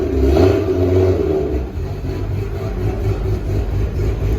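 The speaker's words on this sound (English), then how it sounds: "That's got to be like the lumpiest JZ I've ever heard" A lumpy Toyota JZ engine with 264/272 cams in a street car, revving close by with a loud, choppy, uneven burble that settles into a rough idle, no voices.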